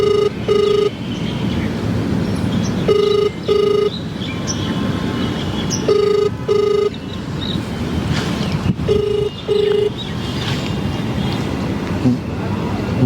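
A telephone rings in a repeating electronic pattern, four short bursts of paired tones spaced a few seconds apart, loud and near over a faint background murmur.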